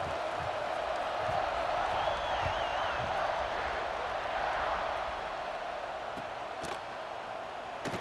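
Steady stadium crowd roar from a PS5 college football video game featuring Ohio State, a dense continuous cheer with faint whistling above it, heard without talk.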